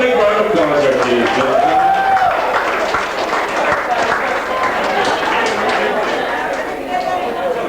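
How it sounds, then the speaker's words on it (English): Audience in a pub lounge at a glamorous granny competition breaking into applause, a broad sustained wash of clapping mixed with chatter and raised voices, loud and close throughout. "All a big round of applause there, please."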